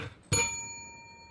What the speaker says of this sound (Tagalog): Saan yung bell ko? Ito pala.